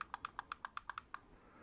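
The DPI button on an Iron Man wireless mouse is pressed repeatedly, giving about ten crisp, close, evenly spaced clicks in quick succession before falling quiet against a faint hiss.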